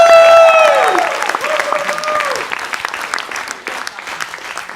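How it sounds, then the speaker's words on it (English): Audience at a demo day event applauds for program manager Franca Gudina, a dense burst of clapping with some cheering that fades gradually, while a voice speaks over the start with a tonal sound trailing under it. "Let's applaud for the one and only program manager"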